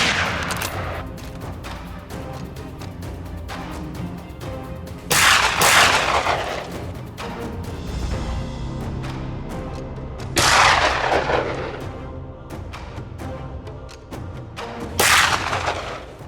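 Gunfire in an open field during a hunt, several loud sharp reports spaced roughly five seconds apart, each echoing and decaying over a rumbling outdoor background.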